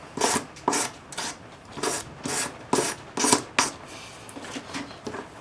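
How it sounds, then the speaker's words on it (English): Quick, repeated scratchy rubbing strokes of a sanding stick smoothing a filed wire end, close up, about a dozen passes that fade toward the end. "Tidy it up with a sanding stick"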